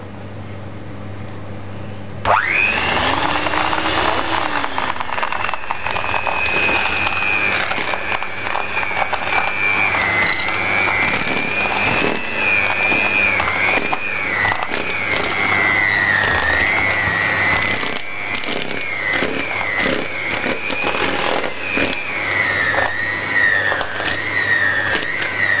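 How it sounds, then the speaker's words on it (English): An electric whisk mixes banana cake batter tinted with banana colouring, starting abruptly and then running as a loud, steady motor whine that holds for the rest of the stretch with slight wavering pitch, close up and with no talking. "Then we get the whisk back out again."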